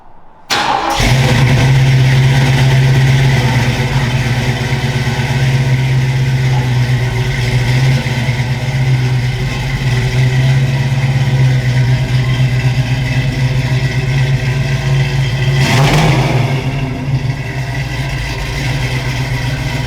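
A classic hot rod car engine cranks briefly and fires, then settles into a loud, close, steady rumbling idle. One sharp rev blips near the end before it drops back to a rough idle, with no talking.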